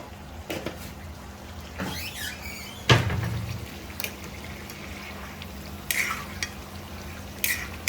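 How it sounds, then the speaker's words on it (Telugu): A ladle stirring and turning fish curry in a pot, with scraping clinks and soft sloshing in scattered bursts over a faint steady simmer, close and fairly quiet. "ఈ చేప కూడా నిదానంగా టెక్నిక్గా తిప్పుకోవాలండి తిప్పుకునేటప్పుడు లేదంటే ఈ గరిట పెడితే ఇరిగిపోద్ది"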